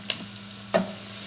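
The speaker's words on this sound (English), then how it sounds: "I'm going to put my onions in. And I'll know they're ready, the oil's ready, because I'll hear that sizzle." Onions dropped into hot oil for a chicken and potato curry, two quick bursts of sizzling and stirring over a quiet steady hiss, close and fairly soft.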